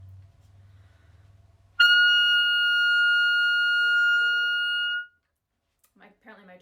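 A sustained, steady high saxophone altissimo G rings out for about three seconds after a low rumble, then stops; faint rustling and a brief voice follow.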